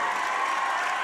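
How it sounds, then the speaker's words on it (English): A boys' basketball crowd and coaches applaud in a gym after a junior scores his 1,000th point, a dense steady wash of clapping throughout with no clear talk. "Whitehall up and applauding. Coaches up and applauding."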